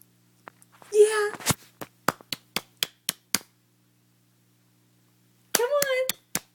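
A baby's hands clap in a loose run of about eight light, close slaps, with a voice calling out before and after the burst.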